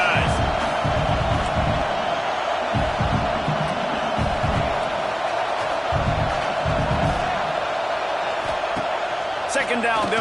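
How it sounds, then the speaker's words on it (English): A college football stadium crowd roaring as a steady, dense wall of noise, with broadcast commentary and low thuds over it. "This crowd going to try to make life miserable for these guys."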